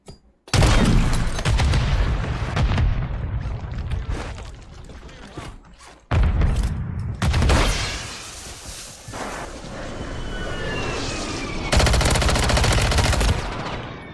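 Rapid video game gunfire crackles in loud bursts, with several sharp volleys separated by brief pauses and fading tails between them.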